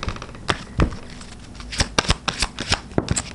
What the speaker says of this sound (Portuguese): Não embaralhar muito não, pra não ficar muita coisa,